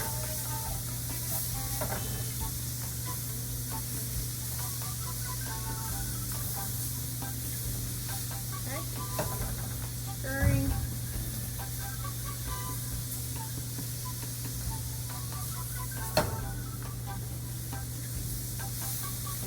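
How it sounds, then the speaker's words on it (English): Onions sizzle and hiss steadily in a hot pan, with scraping and clinking of a utensil stirring them at close range and a couple of sharper knocks along the way. "you want to stir it to keep the onions from sticking"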